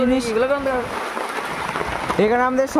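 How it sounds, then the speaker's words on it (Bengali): Heavy rain drums steadily on a tent in the dark, a close, continuous wash of noise heard beneath people talking. "এখন প্রচণ্ড জোরে বৃষ্টি চলে আসছে"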